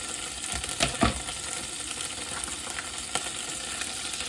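Packet curry sauce poured into a pan with lamb sizzles steadily, with a few brief stirring knocks near the start and one later, and no voices.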